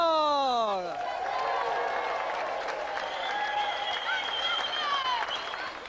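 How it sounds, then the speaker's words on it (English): Steady applause from a studio audience on a game show's arm-wrestling episode fills the clip, with a sustained voice and rising tones at the start over the clapping. "let's have another round of applause for our gallant competitor, Jamie Spencer."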